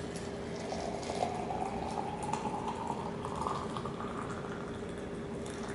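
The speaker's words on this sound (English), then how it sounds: "Pour in your boiling water." Boiling water poured from a kettle into a French press holding loose tea leaves, a steady close bubbling, splashing fill lasting the whole stretch with no talk.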